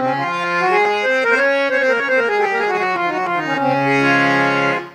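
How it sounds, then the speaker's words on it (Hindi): A DMS-18P triple-reed harmonium with the right-hand coupler engaged, adding a higher octave that makes the tone bright and sharp; a continuous melodic phrase of sustained chords, loud and close, ending on a long held chord. "तो आप इसकी आवाज़ सुन सकते हैं कितनी शार्प है।"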